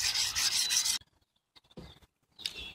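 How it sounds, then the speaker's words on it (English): A scissor blade is drawn up and down on 100 grit stones of a Wicked Edge sharpener, giving a close, harsh rasping stroke, then brief scraping passes after a pause. "Start sharpening just up and down."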